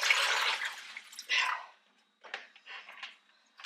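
Liquid poured out of an opened corned beef package into a kitchen sink, giving bursts of splashing and trickling water, a heavy pour first, then several shorter irregular gushes and drips.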